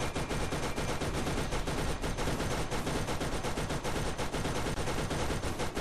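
Rapid, nonstop automatic gunfire from the video game Borderlands during a fight with Skagzilla: dense overlapping shots hammer without pause for the whole stretch, loud and close, with no talking.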